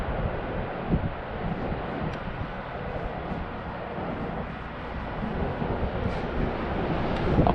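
Strong wind buffets a DJI Mavic Mini drone in flight, a continuous rough, blustery roar that holds steady throughout with no voices.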